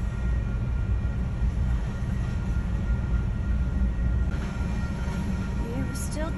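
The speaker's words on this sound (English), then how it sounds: "Definitely obsessed in wanting to get the entire train" A continuous low rumble and rattle of a train rolling past, steady and loud throughout, with faint squeals near the end.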